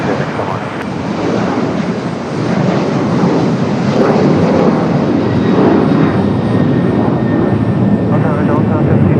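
JetBlue airliner in Vacations livery at Raleigh-Durham International Airport, a loud broad jet engine roar sustained throughout, with faint radio chatter beneath.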